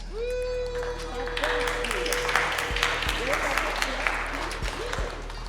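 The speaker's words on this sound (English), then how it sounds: "Okay, a round of applause, please." Applause from an audience at a demoscene graphics showcase fills the room, steady clapping that swells slightly, mixed with a droning hum and some background voices.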